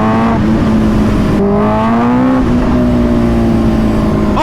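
A Kawasaki Ninja H2R, a world-record supercharged sportbike, revving hard under a rider on city streets in Houston, loud engine tone climbing and shifting pitch close up, with wind rush throughout.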